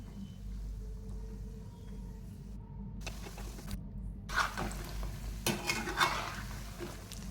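Nimki pieces frying in hot oil are stirred and turned, giving a steady low sizzle with scraping and clinking bursts from the utensil that grow louder toward the end, with no voices.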